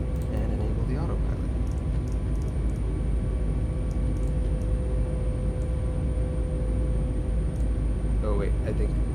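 Steady, loud airliner engine roar during climb-out in Microsoft Flight Simulator 2020, a constant broadband drone with a high whine on top and brief talk over it.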